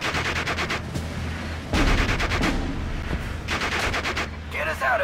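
Artillery and rapid gunfire in Steel Division Normandy 44, the Normandy 1944 war game: bursts of repeated shots in clusters with heavy booming underneath, loud and continuous, a voice briefly audible near the end.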